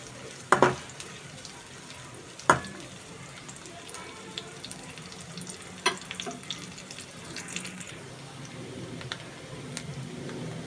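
Onions fry for Bogura aloo ghati with a soft continuous sizzle and crackle, punctuated by a few sharp utensil knocks and clicks against the pan, close but fairly quiet, no speech.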